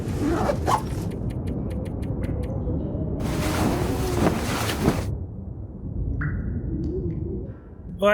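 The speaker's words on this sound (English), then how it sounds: "it sounds like that wind doesn't know what it wants to do" Gusting wind in The Long Dark survival game, a steady broadband rush that swells loudly for a couple of seconds in the middle, then eases back to a constant blustery hiss, with a few faint ticks and thin tones over it.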